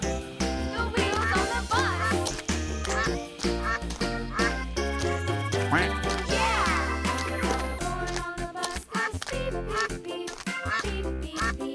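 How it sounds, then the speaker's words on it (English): A cartoon-style duck quacks in a children's farm-animal diorama song, with several quacks set over continuous bright music and a bouncing bass line. "Duck."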